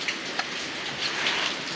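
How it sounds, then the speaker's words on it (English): Steady rain falls outdoors in a continuous hiss, with a few distinct drops ticking onto a surface nearby. "I don't see the rain letting up"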